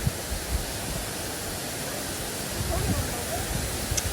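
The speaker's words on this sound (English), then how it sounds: "we'll come into the Ulupatana waterfall, which is famous for its beautiful place" The Ulupatana waterfall in Ubud, Bali pours with a steady, dense broadband rush that stays constant throughout, with faint scattered voices of people nearby.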